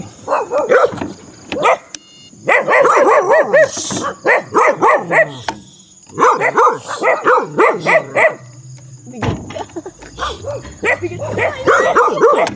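A dog on a road barks over and over in loud, close bursts with short yips and whimpers between them, heard while riding an e-trike on a steep, winding mountain road.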